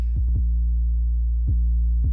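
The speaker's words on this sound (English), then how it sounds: "Distortion. It's distortion." Distorted bass in a hard twerk-style music mix, a few deep throbbing hits with a steady low hum sustained beneath them, no vocals.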